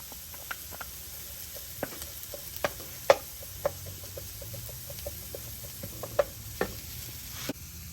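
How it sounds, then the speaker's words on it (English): Garlic and ginger stirred in a frying pan of oil, a soft steady sizzle broken by repeated sharp scrapes and clicks of a utensil against the pan, close and fairly quiet, with no talking. "we're gonna add the garlic, ginger, spoon of ginger, 5 to 6 cloves of garlic,"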